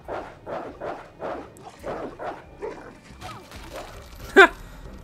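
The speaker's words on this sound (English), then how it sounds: "Zombie dogs." Zombie dogs in the survival horror game Resident Evil Resistance, giving a rapid, rhythmic series of gruff barks and yelps at moderate distance, ending in one sharp louder yelp.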